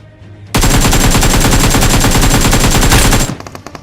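Sustained rapid automatic gunfire in a BGMI battle bursts in loud and close after a quiet start, a dense rattling stream of shots lasting nearly three seconds before cutting off abruptly.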